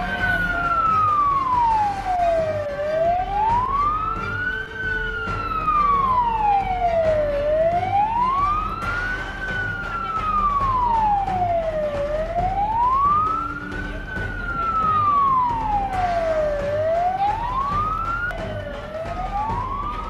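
A loud, continuous wailing emergency vehicle siren rises and falls in slow, regular sweeps, joined by engine hum, during an accident victim rescue drill with firefighters and ambulances outside the Pedro Mir Library at the UASD university campus.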